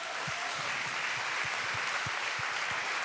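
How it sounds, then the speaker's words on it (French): An audience applauds after an opening slam performance with live band at an anniversary event, heard as quiet, somewhat distant clapping over a steady room hiss. "On peut l'applaudir bien sûr."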